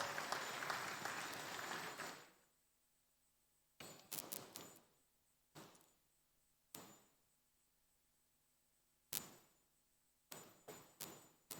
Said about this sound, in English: A better resounding applause.